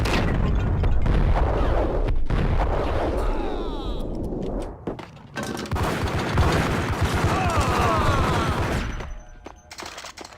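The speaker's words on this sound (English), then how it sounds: "let me get my sawed-off shotgun" Repeated booming sawed-off shotgun fire in the video game Max Payne, loud dense blasts with rattling debris, a brief lull, then more gunfire before it fades out.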